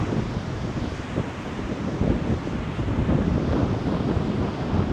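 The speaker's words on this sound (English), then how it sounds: "It's getting windy." Strong wind roars steadily across the microphone, a continuous low rumbling buffet with gusts swelling throughout.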